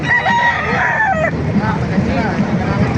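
A rooster crows once at a busy chicken market, loud and near, over a dense crowd murmur with people talking close by.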